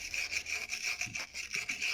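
Steady scrubbing of rusted metal with sandpaper or a wire brush, a continuous hissy rasp with rhythmic back-and-forth strokes, close and without speech.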